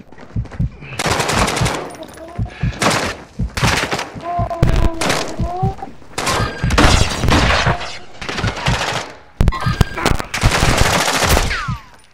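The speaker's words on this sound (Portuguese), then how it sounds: "Estão atirando!" Loud bursts of automatic gunfire and single shots in the online shooter game Warzone 2.0 come in rapid, repeated volleys separated by short gaps.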